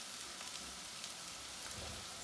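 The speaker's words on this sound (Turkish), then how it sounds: "Evet şu anda köftelerimiz kızarıyor." Köfte meatballs frying in a pan with a drop of oil over low heat give a faint, steady, soft sizzle throughout, with no voices.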